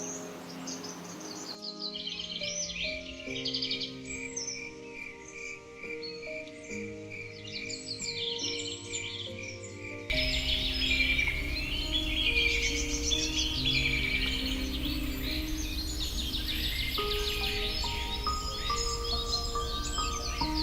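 Birds chirping and calling in the Van Vihar National Park forest, with layered tweets and trills over a steady insect buzz, growing fuller and louder partway through.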